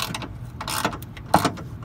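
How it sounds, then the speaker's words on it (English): A wrench ratchets on bolts while taking apart the suspension on a Mazda Miata: a close, dry run of clicking pawl and metal ticks in short uneven bursts, one sharper clack near the end, no voices. "he's wrenching right there."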